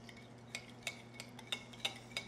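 Rice wine vinegar and sesame oil being whisked together in a bowl, about seven light, evenly spaced clinks of a utensil against the dish, close and quiet over a low steady hum.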